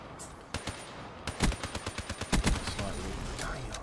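Rapid gunfire bursts in Black Ops 3 multiplayer, a sparse shot or two and then a quick rhythmic string of sharp cracks, fairly close, with a faint game background bed.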